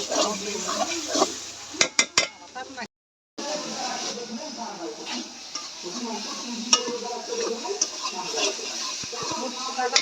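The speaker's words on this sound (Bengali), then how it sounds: "মশলাটা কষাতে কষাতে যখনই বুঝবো যে মশলাতে তেল বেরিয়ে আসছে তখনই বুঝবো মশলাটা কষানো হয়ে গেছে" Spice paste for fish kalia sautéed in a pan gives a continuous sizzle with repeated scraping and clanking of a spatula against the pan, broken by one short silent gap.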